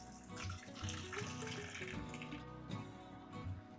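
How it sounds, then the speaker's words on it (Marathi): Water drains and splashes out of glass jars just boiled for ten minutes for homemade strawberry jam, a continuous running trickle that stays fairly close and steady. "आता आपल्याला हे काढून ह्याच्यातलं पाणी असं निथळायचं आहे"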